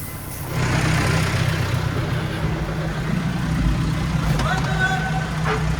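A truck engine runs loudly and steadily while the truck tips a load of corn into a storage depot, a continuous heavy rumble with faint hissing near the end and people talking over it.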